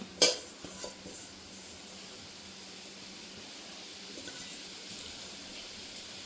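Semolina is fried and stirred in a pan for jaggery rava laddu: a sharp utensil clank opens, then a faint, steady frying hiss continues with a few soft stirring scrapes and no talk.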